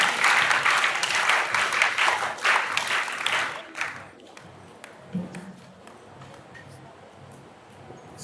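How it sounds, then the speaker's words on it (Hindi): Loud, dense audience applause at an Arya Samaj religious discourse gathering honoring a speaker, filling the first four seconds and then quickly dying away into quieter room noise with scattered claps. "एक बार जोरदार तालियों से आचार्य जी का अभिनंदन करेंगे।"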